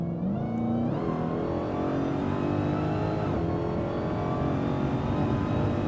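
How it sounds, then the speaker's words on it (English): The supercharged V8 of a Dodge Demon 170 revs hard and loud, its pitch climbing steeply with supercharger whine layered over the engine roar, then holding a sustained, strained howl with no voices. "Listen to the V8, look at... Listen to the supercharger."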